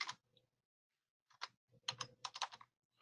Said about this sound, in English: We can type in a value.